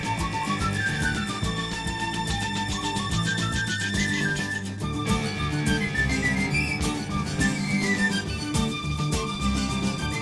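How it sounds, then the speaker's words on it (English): Bright, melodic whistling rides over a full band with drums and bass, tracing a rising and falling tune throughout, in a song from an album. "Listen to the whistler go."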